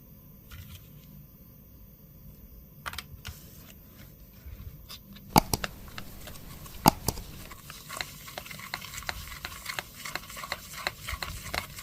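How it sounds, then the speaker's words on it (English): Cement mixed with tissue and a little baking soda is stirred by hand, giving soft scraping and stirring noises with scattered sharp clicks and knocks, faint and close, with no talking. "add a small amount of baking soda and mix it thoroughly"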